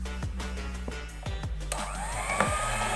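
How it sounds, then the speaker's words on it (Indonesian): An electric hand mixer runs at low speed through durian cake batter with sifted flour in it, a close, steady motor whir with brief pitch dips as the beaters move, and no speech. "Kita mixer dengan kecepatan rendah."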